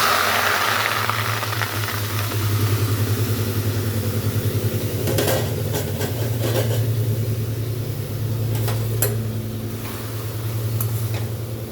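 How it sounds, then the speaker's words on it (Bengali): Pieces of bottle gourd hit a hot wok for a shrimp and gourd dish, a steady broadband sizzle and hiss lasting throughout with a low rumble beneath and a few crackling pops, no talk. "এখন আমি এই লাউগুলো কড়াইতে দিয়ে দিচ্ছি।"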